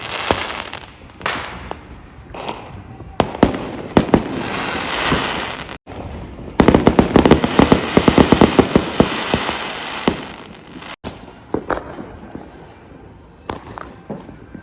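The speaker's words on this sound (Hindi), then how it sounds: "पूरे गांव में भाई चारों तरफ बम भी बम।" Firecrackers burst all around during Diwali and Govardhan Puja celebrations in a village, with sharp loud bangs and crackling volleys, some near and some distant, coming in dense clusters and then thinning out.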